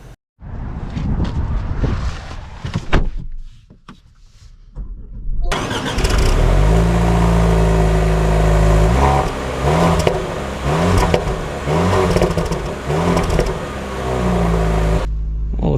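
A 2025 Range Rover Velar starts and pulls away, engine rising into a steady drive with rolling road and cabin noise, preceded by close talking and handling sounds.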